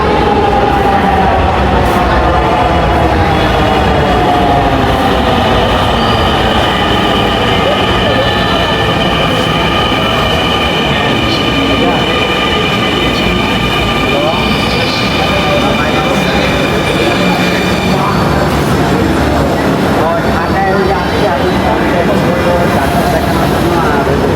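A Dhaka metro train runs from Motijheel toward Uttara, a loud sustained rumble with rising and falling whining electric motor tones as it passes nearby, while people talk over it.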